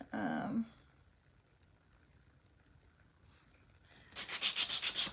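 Short bursts of scratchy rubbing, like sandpaper worked over small wooden scarecrow craft-kit pieces, with a quiet stretch between and a rhythmic run of strokes at the end.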